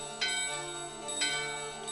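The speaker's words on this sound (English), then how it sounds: "We're gonna go ahead and ring this bell" A bell rung in Final Fantasy IX: two bright metallic strikes about a second apart, each with a shimmering decay over a steady background music bed.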